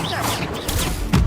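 The Expelliarmus spell is cast in the video game Hogwarts Legacy, with a dense magical burst of crackling blasts and a heavy low impact at the end, loud and close, as a voice speaks the incantations.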